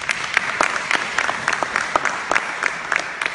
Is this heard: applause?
yes